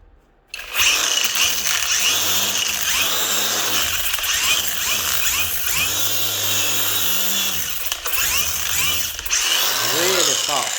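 A cordless brushless angle grinder fitted with a sanding disc runs close by, a loud continuous whirring whine that rises and dips as it bears on the work. Brief speech can be heard over it.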